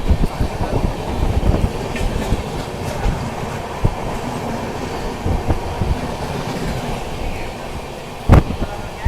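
The Patalkot Express rumbles past up close on Indian rails, a steady loud roar of wheels and carriages with clickety-clack and occasional sharp squeals and thumps, continuous through the whole stretch.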